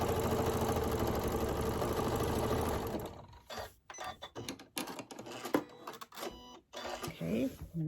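A sewing machine stitches a pumpkin patch table runner in a fast, steady mechanical chatter for about three seconds, then falls quiet, leaving scattered handling clicks and rustles.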